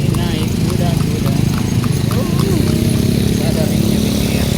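Horse hooves clip-clop steadily on a city street during a horse ride in Yogyakarta, close and continuous beneath constant traffic and engine rumble, with a brief whinny-like cry and people talking.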